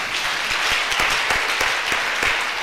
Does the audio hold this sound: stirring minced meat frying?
no